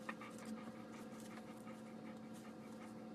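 An older dog panting steadily inside a small airplane cockpit during flight, faint and close, under a constant droning engine hum, with no talk.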